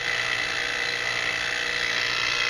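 An HVAC vacuum pump runs on a Trane system change-out, a steady, loud motor whine with a dense high hiss that holds unbroken and close throughout.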